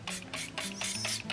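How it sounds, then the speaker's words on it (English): Several quick hissing bursts from a spray bottle, close by, misting the hairline of a lace frontal wig in a rapid rhythm of short pumps. "spray the hairline"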